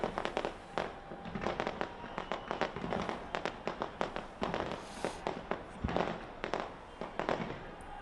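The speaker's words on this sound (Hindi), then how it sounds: "ऑकलैंड में आतिशबाजी के बीच लोगों ने 2024 का स्वागत किया" New Year 2024 fireworks in Auckland: a dense run of sharp bangs and crackling bursts, irregular and overlapping, loud and close, with a faint crowd murmur beneath.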